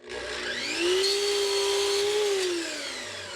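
A power saw cuts crown molding to length. Its motor whines up to a steady high pitch, holds for about two seconds, then winds down, loud and close, with no voices.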